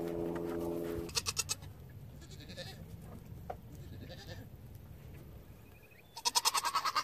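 Older goat does bleat close by, with a long wavering call at the start and another burst of bleating near the end, over a quiet farmyard background with faint rustling.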